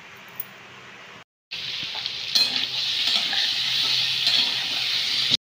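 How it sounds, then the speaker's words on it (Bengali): Cumin seeds hit a hot kadai with a loud, close hiss that swells into a steady, even sizzle after a brief silent gap. "কড়াই বসে দিয়েছি, জিরে দেবো এর মধ্যে"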